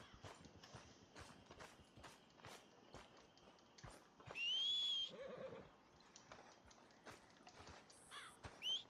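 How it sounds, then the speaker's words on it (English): A horse in Red Dead Redemption 2 gives a sharp, rising neigh in the middle, set among scattered hoof clops and tack clinks, with a shorter whinny near the end. "Este caballo tonto creo que se quedó trabado."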